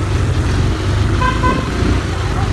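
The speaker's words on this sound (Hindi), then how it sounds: "देखिए देखिए उसका ही हॉर्न है ये" A vehicle horn toots briefly in the middle over a steady rumble of road traffic and engine noise.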